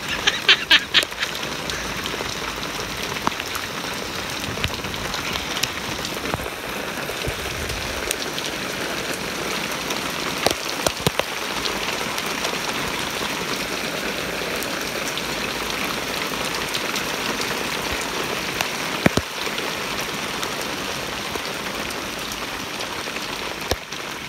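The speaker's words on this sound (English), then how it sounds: "This is what you call a rain shower." A rain shower patters steadily on surrounding surfaces outdoors at home just after thunder and lightning, a dense continuous hiss of drops with occasional louder nearby splats, holding an even level throughout.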